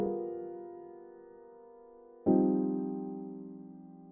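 A dark RnB chord progression played on a sustained keyboard sound: one chord rings and slowly decays, then a second chord is struck and fades out.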